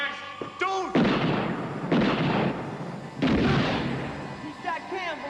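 Three loud, close gunshots, each a heavy blast with a long echoing tail, spaced about a second apart, with brief voices before and after.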